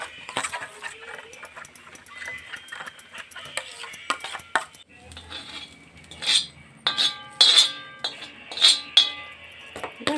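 Fried onion being stirred in a pan with a spoon, giving scattered metallic clinks and scrapes that grow sharper and more frequent toward the end, with no talk.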